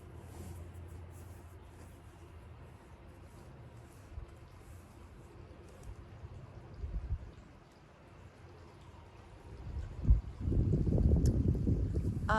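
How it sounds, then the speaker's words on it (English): Wind blows outdoors in Arizona before rain, a low rumbling gust noise against the microphone that swells and builds toward the end. "Ooh, it's starting to get windy."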